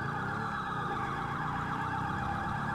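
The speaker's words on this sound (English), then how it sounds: "I'm hearing a lot of freaking sirens." Police sirens wail continuously in the GTA 5 video game, a steady loud layered siren tone holding throughout with no talking.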